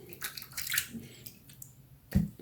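A razor is rinsed under running tap water while shaving: faint splashing bursts of flowing water, then a louder short gush near the end.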